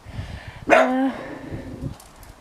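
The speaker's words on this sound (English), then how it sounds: "Sorry about Mason barking" A single loud dog bark with a drawn-out whine at the end, close by, with quieter outdoor noise before and after.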